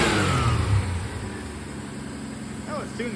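A '65 Dodge Dart convertible with a Slant Six engine idling after a timing adjustment: a steady, low engine rumble that is a little louder at the start and then settles into an even idle.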